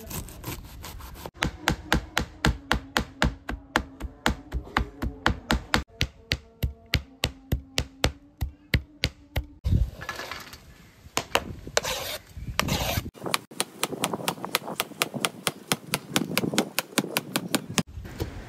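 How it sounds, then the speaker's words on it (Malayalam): A knife chops cabbage into small pieces on a cutting board for a panipuri recipe, giving fast, steady, evenly spaced sharp chops close by, broken by a brief pause and then continuing without talk. "കാബേജ് ഇതേമാതിരി ചെറുതാക്കി കട്ട് ചെയ്യാൻ കേട്ടോ"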